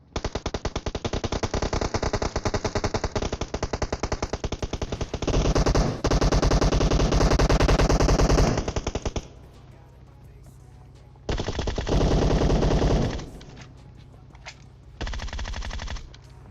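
AKM automatic fire in the video game PUBG Mobile comes in long, loud, rapid bursts with short gaps between them, close and harsh, and no voices are heard.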